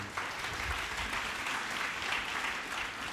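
A church congregation at a French-language worship service claps steadily and continuously, a dense even wash of applause heard at moderate distance without a pause.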